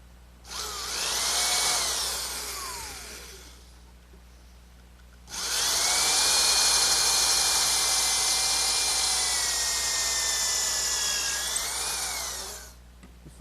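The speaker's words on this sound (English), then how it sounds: "I'll drill a pilot hole with a counter bore for some screws" A power drill bores a pilot hole with a counterbore into wood for a rocking horse, in two loud steady whining runs separated by a short pause, the second burst longer, with no talking.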